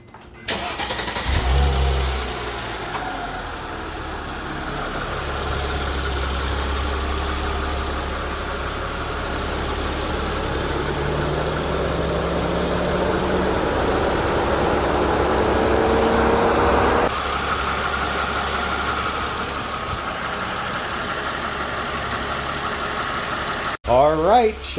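A 2004 Chrysler Crossfire engine cranks and catches, then settles into a steady, rumbling idle that runs on for a long stretch, with a voice speaking briefly near the end.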